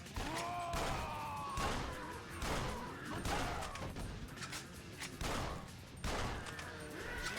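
Explosions in the video game Yakuza Dead Souls come as a loud, dense series of blasts and cracking gunfire-like bursts, booming repeatedly one after another with no talking.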